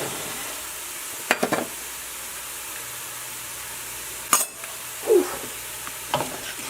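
Vegetables sweat down in a pan for a meatball sauce, with a low continuous sizzle under a few sharp spoon-against-pan scrapes and clanks at intervals, close by, without speech.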